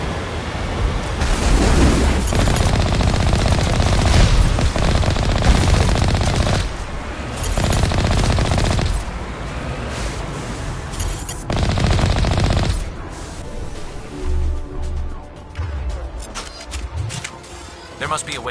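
Enemy artillery fire in the video game Mass Effect, with loud repeated bursts of heavy gunfire and booming blasts that ease into quieter rumbling and scattered shots, with voices over the action.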